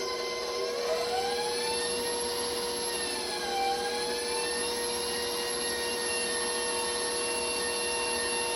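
An electric hand mixer beats sweet potato pie filling with two eggs in a bowl, a steady, loud motor whine that runs without a break and holds a constant pitch under no talk.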